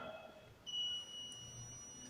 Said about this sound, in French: Le système déclenche une alarme pour signaler qu'il y a quelqu'un qui essaie d'entrer avec une badge ou bien une carte qui n'est pas reconnue